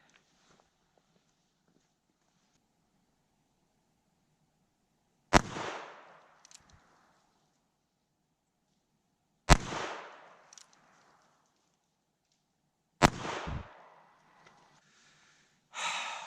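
Three sharp, loud .22 gunshots from CCI Stinger rounds fired into ballistic gel, spaced several seconds apart, each a crisp crack followed by a brief echoing tail, with a fourth shot starting at the very end.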